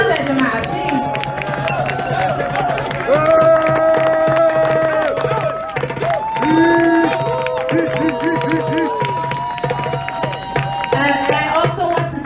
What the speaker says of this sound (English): Please give a round of applause for Mark Steinberg.